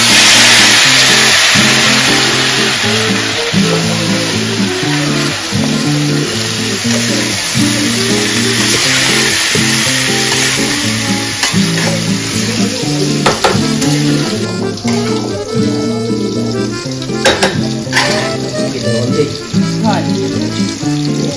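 Fish fries in hot oil in a Bengali home kitchen, giving a steady loud sizzle broken by sharp spluttering pops and crackles throughout.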